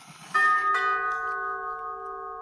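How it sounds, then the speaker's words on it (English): A two-tone doorbell chime rings once, bright and clear, its tones lingering and slowly fading in a quiet room. "That's the doorbell."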